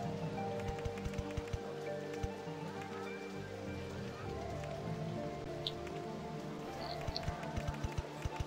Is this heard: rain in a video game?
yes